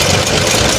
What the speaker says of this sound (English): Armored vehicle.